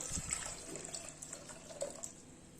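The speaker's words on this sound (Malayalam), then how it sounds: "ഇതിലേക്ക് വെള്ളം ചേർത്ത് കൊടുക്കാം" Half a cup of water pours steadily into a pressure cooker for lentil curry, a faint running splash with a few small clinks, no voices.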